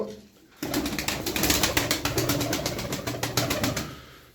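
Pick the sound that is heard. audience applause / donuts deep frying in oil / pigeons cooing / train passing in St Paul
pigeons cooing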